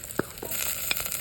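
Onion fries with garlic in olive oil, a brief close sizzle with two quick scraping taps of a stirring utensil.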